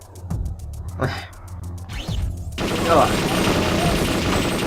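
Rapid automatic gunfire from a hover bike in the video game Perfect Dark: a quick, evenly spaced run of sharp shots, then a louder, denser burst of continuous firing and noise.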